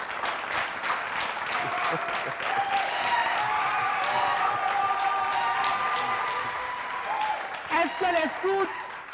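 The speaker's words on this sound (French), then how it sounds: "Merci de les applaudir pendant qu'ils viennent" Audience applauding former scouts walking onto a TV entertainment show stage, continuous crowd clapping under music and a voice speaking near the end.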